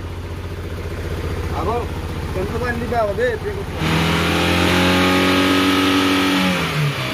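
A Maruti Gypsy engine with a newly fitted silencer runs close by, first idling under a man's brief speech, then revving louder and smoother before easing back down.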